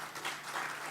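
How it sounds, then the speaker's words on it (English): Members of the National Assembly applaud in the parliamentary chamber, a short burst of distant, quiet clapping that swells briefly and stays steady. "And yes, you may applaud her."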